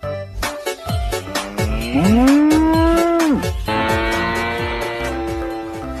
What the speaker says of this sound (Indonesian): Wah, ada induk sapi belang.